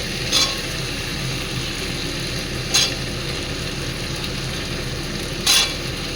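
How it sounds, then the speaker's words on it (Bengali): Prawns frying in a pan with garlic paste, a steady close sizzle with three short scraping strokes of a spatula spaced a few seconds apart, no voices. "এই যে চিংড়ি মাছটা একটু ভাজা ভাজা হয়ে গেছে, আর আমি রসুন বাটাটা দিয়ে দেবো সঙ্গে"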